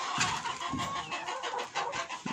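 Hens clucking in a hen house in short, uneven bursts over a steady background hum, fairly close, with no voices.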